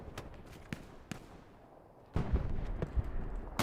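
Artillery fire in the video game Hell Let Loose, a run of sharp distant thuds and cracks that gives way to a heavy, rumbling barrage of impacts rolling through the second half.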